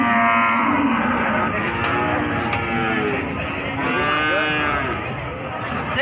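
PO cattle at a crowded cattle market moo repeatedly, several long drawn-out lowing calls overlapping one another against a busy background of market chatter.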